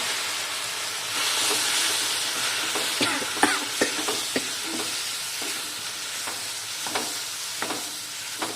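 Lemons for a date and lemon pickle go into chili powder in hot coconut oil, giving a steady broadband sizzle with scattered stirring clinks and scrapes throughout, close and fairly loud, with no talking.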